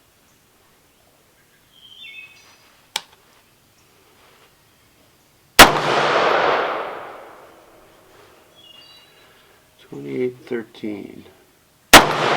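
Rifle shots from fresh reloads crack sharply at an outdoor range, two loud single reports with a long echoing decay, plus a fainter pop, with someone speaking briefly between them.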